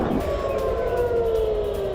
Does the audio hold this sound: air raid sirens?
yes